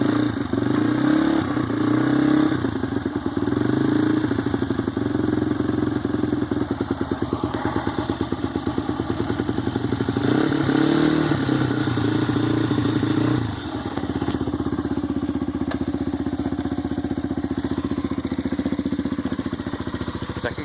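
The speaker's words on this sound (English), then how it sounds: "There we go, second kick." A 2005 Honda CRF150F dirt bike idles after a cold start, its single-cylinder engine loud and close with a rapid steady putter, briefly rising and falling in pitch before settling lower.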